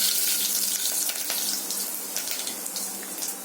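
Fenugreek and cumin tempering in hot sesame oil, a dense, continuous crackling hiss heard up close with no voices.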